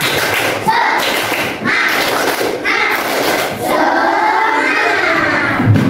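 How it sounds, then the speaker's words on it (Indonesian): A class of grade 3 children at an Islamic primary school beat out a rhythmic spirit clap together, with thuddy claps and excited shouting voices close and loud throughout. "Ayo kita tepuk semangat dulu ya, semangat hari ini. Tepuk semangat."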